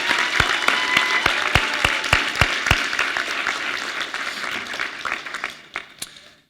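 Applause from a crowd at a high school equivalency graduation ceremony, loud and steady at first with a few sharp distinct claps, then gradually thinning out and fading.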